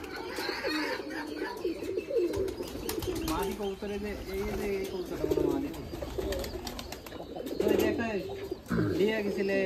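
Local pigeons coo repeatedly close by with soft chirps and some wing flutters, while people talk over them.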